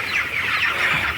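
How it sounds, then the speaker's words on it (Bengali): Frightened broiler chickens in a farm shed cluck after being caught, a continuous agitated flock chatter at steady moderate loudness with no voices. "মুরগি ধরার পর শব্দ করছে"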